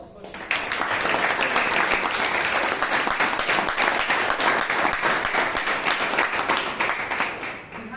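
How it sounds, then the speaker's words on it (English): A room of people at a Toastmasters club meeting in Bangalore clap together in sustained applause for a presenter, dense and steady for about seven seconds before tapering off. "Can we have a round of applause for Shreya?"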